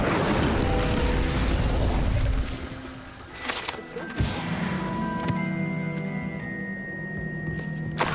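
A fire spell, Incendio, cast in the video game Hogwarts Legacy: a loud roaring whoosh of flame bursts and rumbles for a couple of seconds, then gives way to quieter crackles, pops and magical shimmering tones.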